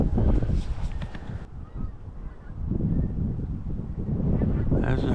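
Flock of migrating pink-footed geese honking in autumn, a dense, continuous chorus of calls at a moderate distance, with wind buffeting the microphone and a brief quieter gap partway through.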